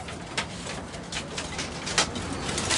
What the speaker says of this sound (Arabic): حمام طالع طلقات